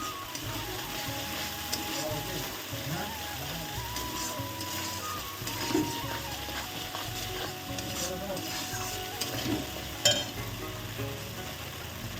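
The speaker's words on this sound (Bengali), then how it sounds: "এখন দিয়ে দিলাম শুকনো লঙ্কা কালারের জন্য।" Dried red chillies sizzle in hot oil in a pan while prawns are cooked in a malai curry, a steady dense crackle with scraping stirs and a couple of sharp clinks.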